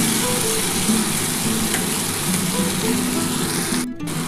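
Spice paste for a potato and spring onion curry fries and sizzles steadily in a pan, with a spoon stirring through it, a dense continuous crackle close up, no talking.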